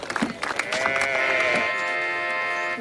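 A sheep shown by a young girl at a shepherdess contest in a fantasy drama lets out a long, wavering, nasal bleat close by after a few short sounds, with no talk over it.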